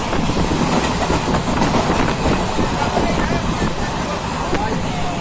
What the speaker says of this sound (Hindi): काफ़ी स्पीड से चल रही है अब ट्रेन।